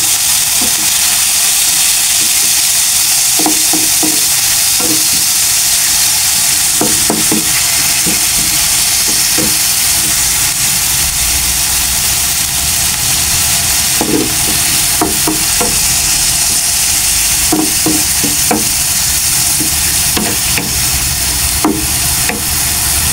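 Ground pork frying for Filipino menudong giniling, with a steady close sizzle in the pan and a series of sharp spatula scrapes and clacks as the meat is stirred and turned.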